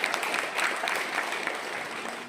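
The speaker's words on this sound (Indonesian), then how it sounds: "Boleh tepuk tangan lagi buat saya." Scattered applause from an audience at a talk, a fairly quiet, even patter of many hands clapping, heard from a little distance.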